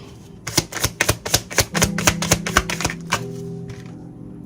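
A rapid flurry of crisp card riffles and taps, close and fairly loud, building then trailing off into quiet.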